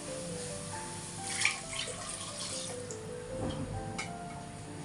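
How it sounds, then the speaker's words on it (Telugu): About 400 ml of water is poured into mutton curry gravy in a pot, a close, moderately quiet stream of splashing liquid that runs steadily for several seconds. "నేనైతే ఇక్కడ 400 ml వాటర్ని యాడ్ చేస్తున్నాను."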